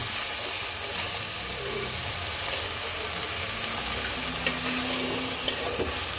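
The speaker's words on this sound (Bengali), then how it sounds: "এইবার চালটাকে খুব সুন্দর করে ভেজে নেব।" Rice frying in a pan with ginger paste, garlic paste and salt for a chicken biryani, a loud, steady sizzle with occasional stirring scrapes, close by and without speech.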